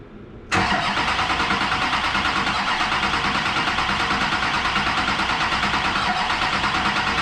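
An LB7 diesel truck engine cranks loud and close, a steady rhythmic churning that kicks in abruptly and continues without catching.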